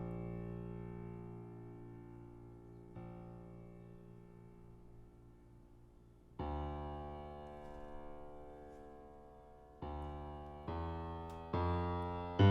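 Sustained synth bass line in an FL Studio trap-style melody, notes shifting in loudness as velocity varies, with thicker, louder hits arriving in steps near the end; no voices.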